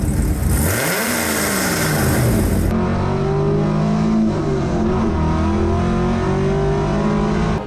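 A Gen 5 L83 V8 fitted with 180 degree headers roars through a rev sweep, then settles into a loud, rumbling, uneven burble with a sweeping pitch.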